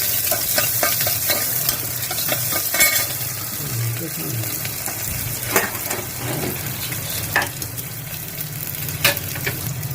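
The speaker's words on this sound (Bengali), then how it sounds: "পেঁয়াজটা ভাজা ভাজা দিলাম" Oil sizzles steadily in a pan as onions fry, with repeated scraping and stirring strokes of a spoon against the metal, close and continuous.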